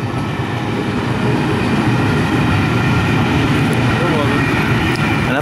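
LNER A3 Flying Scotsman 60103 steam locomotive departing on a Carlisle to York railtour, heard as a steady, loud rolling rumble of the train close by, with voices faintly in the background.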